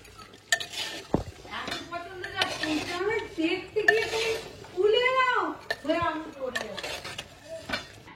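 A spoon stirs and scrapes through chicken curry with potatoes in a pan at an outdoor family picnic, with repeated close metallic scrapes and clinks, while people talk over it.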